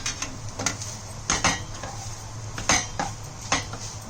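Spoon stirring keema (minced meat) as it fries in a pan, with a scraping clatter of utensil against metal in several irregular bursts over a faint low background, close and moderately loud.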